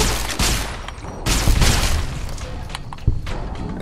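Explosions and weapon blasts in the video game Fallout: New Vegas give several loud, booming thumps and crackling bursts in quick irregular succession during combat.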